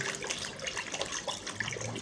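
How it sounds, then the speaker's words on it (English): A finger stirs a bucket of water with a pinch of cinnamon added, giving a continuous close sloshing and swirling of liquid with small splashes throughout. "Then you stir. Always stir with your command finger."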